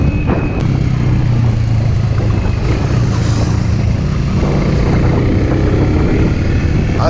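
125cc motorcycles, two air-cooled and one water-cooled, ride along a road on a hot summer day, a constant loud wash of engine drone and rushing wind from the rider's position.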